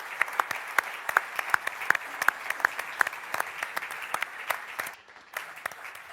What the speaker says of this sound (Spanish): por qué no le hacemos un aplauso a Teo